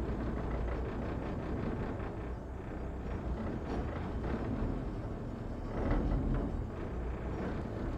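A Sessa C42 motor boat with Volvo IPS engines moving forward out of a marina berth, a steady low rumbling engine drone that swells briefly, continuous and fairly close, with no speech.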